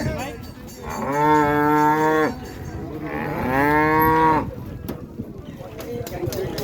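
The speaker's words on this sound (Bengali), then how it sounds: "জোড়া গরু" Cattle at a village cattle market in Keraniganj give two long, loud moos close by, one after another, with market chatter and talk around them.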